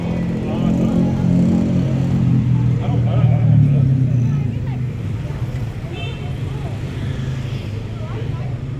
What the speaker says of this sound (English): It's just good to look at the Indonesian traffic. This is traffic in Jakarta.